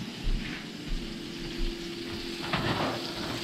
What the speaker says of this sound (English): I can hear a sizzle.